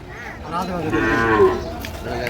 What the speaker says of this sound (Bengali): এগুলা সব হচ্ছে সাইওয়াল বাছুর